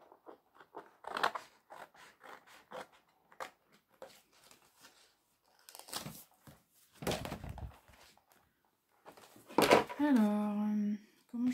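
Scissors snip through a Christmas card in short, quiet cuts close by, with soft paper rustles between them and a voice talking now and then.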